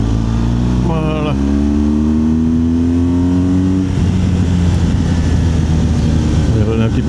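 BMW R1200GSA motorcycle engine pulling hard up a hill, its note rising steadily and loud close by, then dropping into a rougher drone as the rider eases off and wind noise takes over.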